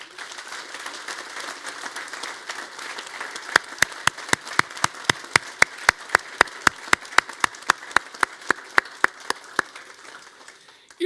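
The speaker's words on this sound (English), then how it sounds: "I'd like to invite everyone to give a special round of applause to all our graduates here" Graduation ceremony crowd at Griffith College Limerick applauding the graduates, a steady wash of clapping throughout, with one nearby person's loud, evenly spaced claps joining partway through and continuing to the end.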